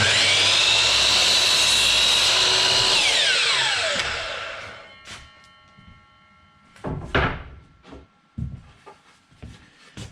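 A power saw docks the split, nailed end off a timber board, a loud sustained whine that winds down, followed by a few separate knocks and clunks of the wood being handled nearby.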